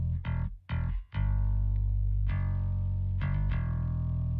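A hard rock mix runs with heavy distortion on the guitars, loud and dense. Several sharp cuts and restarts break up the sustained, gritty tone.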